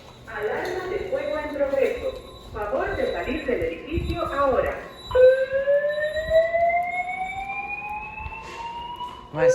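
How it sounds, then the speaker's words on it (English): During a test, a building fire alarm plays a recorded spoken evacuation announcement, then sounds a loud, repeating rising whoop tone. "Fire alarm in progress. Please leave the building now."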